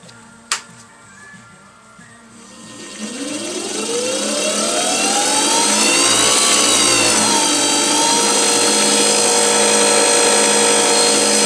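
A 9x20 motor firing up: a low hum becomes a rising whine that climbs in pitch and swells into a loud, steady high-pitched drone with a tonal sweep, close to the microphone, with a sharp click near the start and no talking.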